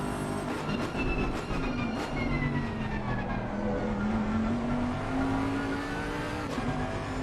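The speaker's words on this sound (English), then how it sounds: "You can hear the front tyres struggling as we get towards the end of the later stages of this race" Racing game GT3 car at Zolder with engine drone rising steadily and a thin tyre squeal over it, continuous and loud throughout, no talking.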